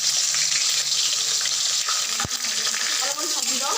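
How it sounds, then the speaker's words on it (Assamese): Onions fry in hot oil in a wok, a constant loud sizzle that sounds close, joined by a sharp metallic knock partway through and light stirring scrapes toward the end. "এয়া পিঁয়াজখিনি মই অলপমান ৰঙচুৱা কৰি দিছোঁ"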